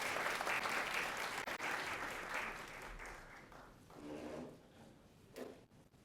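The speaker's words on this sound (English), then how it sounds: "So another round of applause for them, please." Sustained applause from a civic audience at a city council State of the City event, loud and steady at first, then thinning and tapering toward the end.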